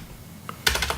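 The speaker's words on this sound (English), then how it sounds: "First I enter my password, junk." Quick clicks of a computer keyboard as a password is entered at a Linux sudo prompt, a brief cluster of close keystrokes.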